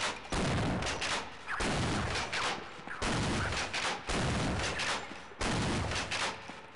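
Shotgun blasts in Half-Life 1: five loud, heavy booms spaced roughly a second and a half apart, each ringing out with a long, rough decay, close and dominant.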